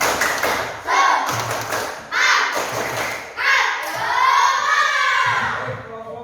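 A classroom group does the rhythmic tepuk semangat spirit clap, with loud bursts of clapping and thumps repeating in several rounds, and children's voices shouting between them.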